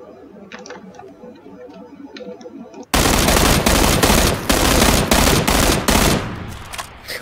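Rapid automatic gunfire from PlayerUnknown's Battlegrounds bursts in after a quiet stretch, loud, dense volleys of shots with brief gaps between bursts, near and dominant.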